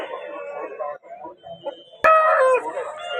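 At a rooster market in Vijayawada, a gamecock gives low clucks and then a loud, close crow partway through, with a voice talking faintly nearby.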